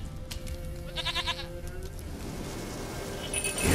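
A goat bleats in The Witcher 3 game world, a wavering call over a dense background of ambient game sound and wind-like noise, with a brief high chime near the end.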